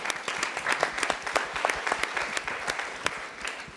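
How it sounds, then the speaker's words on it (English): An audience at an admitted students day event for a performing arts college claps steadily, a dense, even round of applause that carries through without a break. "Give a round of applause for yourself."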